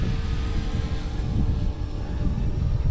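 A Flite Wing 200 RC helicopter fitted with a larger 1500 battery flies on a windy day, giving a steady, unbroken drone mixed with blustery low wind rumble for the whole stretch.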